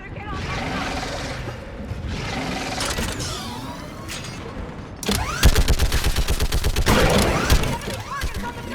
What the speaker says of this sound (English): Get on that gun up there and do some damage!